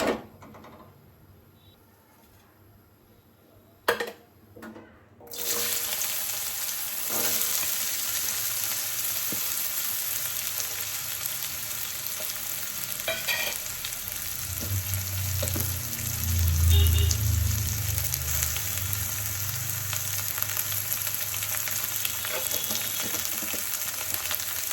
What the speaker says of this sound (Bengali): এবার এই আলু আর উচ্ছেটা একটু ভাজবো অল্প তেল দিয়ে